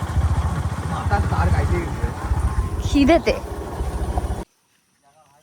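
A motorbike engine drones steadily beneath a speaking voice on a ride through a mango orchard, then cuts off abruptly into near silence.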